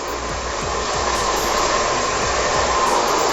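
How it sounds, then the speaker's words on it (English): A hair dryer blows hair upward into a pompadour or quiff. It makes a loud, continuous, close-up whoosh with a steady airy roar throughout. "Just keep blow drying it mohawk area like this way and then this way."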